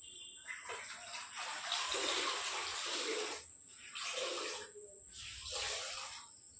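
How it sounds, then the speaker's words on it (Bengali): Wet swishing of a mop over a floor with water inside a home, in repeated strokes of a second or two, faint and close over a steady high hiss. "চলো এবার ঘরটাকে পরিষ্কার করে মুছে নিই"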